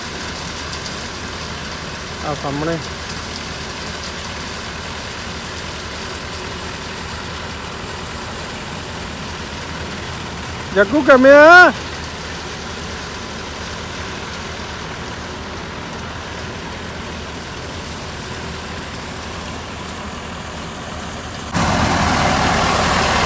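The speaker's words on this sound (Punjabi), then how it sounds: "ਟਰੈਕਟਰ ਚੱਲ ਰਿਹਾ ਥਰੈਸ਼ਰ ਉਹ ਕੱਢਦੇ ਨੇ" A tractor powering a mustard thresher drones steadily in the background through a rural field, a low continuous engine rumble with a few short bursts of nearby talk over it.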